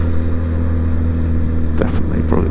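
A Honda Hornet 1000 SP motorcycle engine drones steadily in third gear while riding, a loud, close, continuous low hum with brief wind or handling noise near the end.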